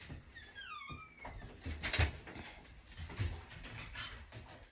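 Puppies lying in a bed give a short, faint falling whimper, then rustle and shift about with soft thumps, all quiet and close by.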